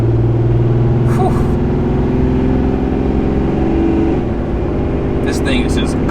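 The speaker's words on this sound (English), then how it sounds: "I'm gonna send it at 20 miles an hour, okay? Here we go. It's wide open throttle." A 2018 Ram 2500 Cummins diesel truck towing a heavy load drones steadily at wide open throttle from inside the cab, a constant low rumble with faint rattles.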